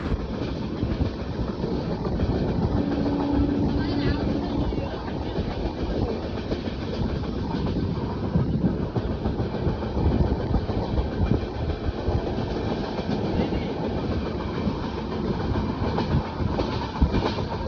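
An Indian passenger train rolls along the rails in Kerala near Kasaragod, heard from inside the carriage as a steady loud rumble with continuous clickety-clack, no voices.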